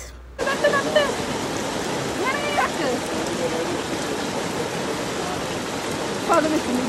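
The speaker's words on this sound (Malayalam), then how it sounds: "നല്ല മഴ കാണാൻ നല്ല രസമുണ്ട്" Heavy monsoon rain falls in a steady, dense hiss that fills the whole stretch, loud and close. A couple of brief higher sounds stand out over the downpour.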